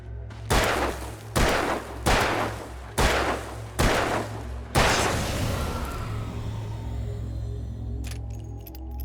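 Five loud, evenly spaced gunshots from a handgun in the video game Alan Wake, each a sharp crack about a second apart, the last one ringing out into a lingering rumble and low ambient drone.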